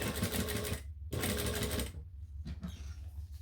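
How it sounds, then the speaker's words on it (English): A sewing machine stitches fabric in a bag-making session, running in a loud, close, rapid mechanical whir, pausing briefly, running again and then stopping, with a few short stitches near the end. "On the outside, we're going to stitch up"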